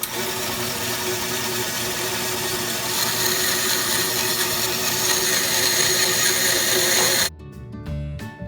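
Power tool cutting thrift-store exotic wood, purple heart, into pen blanks: a loud, continuous, close whine and rasp of the blade biting through the wood for about seven seconds, then it spins down abruptly.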